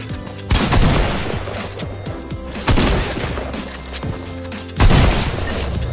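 Heavy video game gunfire in a solo arena match, loud rapid bursts of shots arriving in three separate volleys with booming impacts between them.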